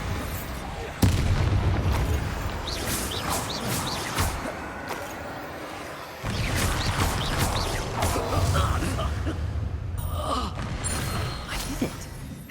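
A Bombarda blasting spell exploding in Hogwarts Legacy amid combat, a sharp boom followed by a stretch of rumbling battle noise, another hard impact midway, and scattered gasps and effort sounds layered over the mix.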